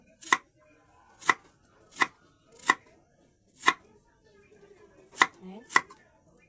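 Knife chopping through ingredients for bilo-bilo on a cutting board, seven sharp close knocks at an uneven pace with short pauses between them, and no talking.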